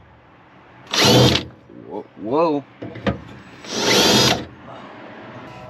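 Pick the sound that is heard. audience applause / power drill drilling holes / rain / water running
power drill drilling holes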